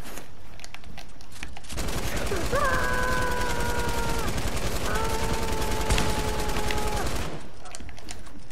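Pump shotgun and other gunfire in a Fortnite match, a rapid dense volley of shots lasting several seconds under game music tones, with voices talking over it.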